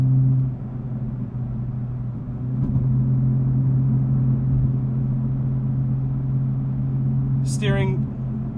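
A 2022 Lexus IS350 F Sport hums with a steady low engine drone and road rumble from inside the cabin while driving, holding a low gear at moderate pace, with a brief chirp near the end.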